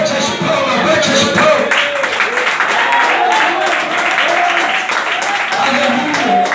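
Rhythmic hand clapping from a church congregation during a Portuguese-language sermon, with steady claps running under a preacher's loud, continuous speech and crowd voices.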